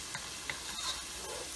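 Ground turkey chili sizzles steadily in a hot pan while a spoon stirs it, soft scraping strokes over a constant close frying hiss, fairly quiet overall.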